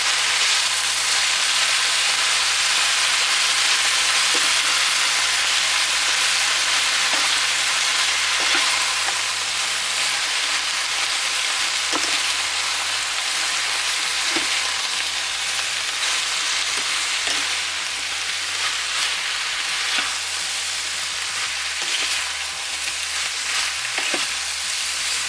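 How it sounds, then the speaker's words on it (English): Vegetables fry in a pan for a vegan weeknight dinner, a steady loud sizzle with occasional scraping clicks as they are stirred, no talking. "I'm going to go ahead and give everything a stir."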